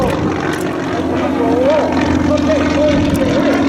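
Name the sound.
propeller airplane flying at the Oshkosh airshow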